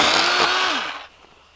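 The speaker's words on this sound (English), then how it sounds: "an electric chainsaw just makes firewood processing just so delightful" An electric chainsaw cutting firewood at a rainy campsite whines loudly up close, then its pitch slides down and fades as the motor winds down.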